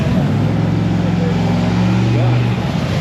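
An NHRA drag racing car engine idling in the pits, a loud, steady, deep mechanical rumble close by that holds throughout with little change in pitch.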